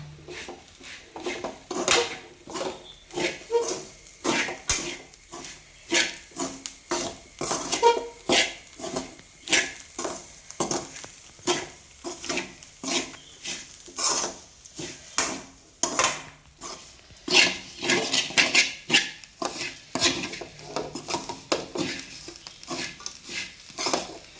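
Chicken curry masala with ground fennel being stirred in a pot, repeated close scraping and knocking strokes of a spoon against the vessel in an uneven rhythm, with a faint high whine in the background.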